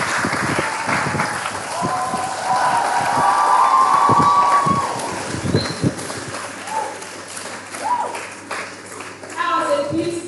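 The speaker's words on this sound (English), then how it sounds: "Please, another round of applause" Audience applause after a performance at a talk on sexuality and healthy lifestyle, a sustained wash of many hands clapping with cheering that swells and then thins into scattered claps, with voices calling out over it.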